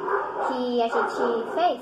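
Dogs barking and yipping outdoors on a noisy street, several overlapping barks and whimpers mixed under someone talking close to the microphone.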